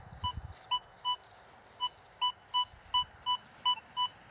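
Deus 2 metal detector sounding a clear, fluty tone over a buried target in a coin-hunting dig, a series of short, bright beeps at an uneven rhythm, close and alone apart from a faint low rumble at the start.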